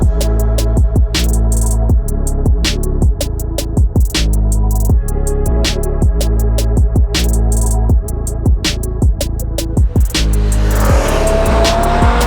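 A BMW M6 with its V10 engine drives hard and close, the engine note loud and continuous with rapid rev rises and sharp gear-change breaks repeating throughout.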